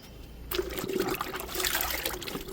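Zero-budget liquid fertilizer is poured onto a mulberry plant, starting abruptly as a close, splashing trickle of liquid that runs steadily to the end, with no voices.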